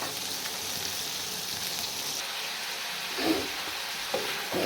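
Chicken liver fries in a pan with a steady, soft sizzle and crackle, broken by a couple of brief louder stirring bursts near the end.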